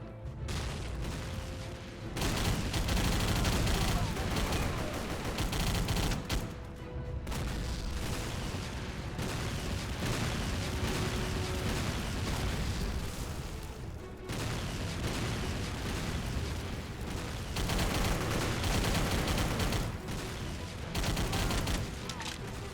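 Gunfire in the Xbox 360 shooter Battle for the Pacific on Wake Island: dense, continuous bursts of rifle and machine-gun fire with booms, steady and fairly loud across the whole stretch, with brief pauses between volleys.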